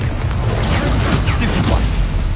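In the game Hogwarts Legacy, an Incendio fire spell goes off as a dense, continuous roaring burst that fills the whole clip loudly, with explosive rumble underneath.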